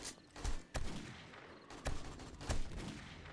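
Desert Eagle pistol shots in 7 Days to Die during a horde night: a handful of spaced, booming shots with rumbling tails, moderately loud over a continuous low background of game noise.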